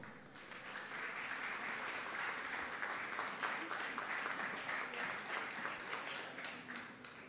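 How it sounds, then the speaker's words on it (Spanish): An audience at an award ceremony for the Fotolectura contest applauds a finalist team, a dense, steady wash of many hands clapping together for several seconds. "le brindamos un fuerte aplauso también a este equipo finalista"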